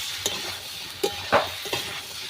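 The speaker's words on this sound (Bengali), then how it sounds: "এবারে সয়াবিন আর আলুগুলো ভালোভাবে কষিয়ে নেব।" Soybean chunks and potatoes stir-fried in a pan, a spatula scraping and turning them in a few distinct strokes over a soft sizzle, close and alone.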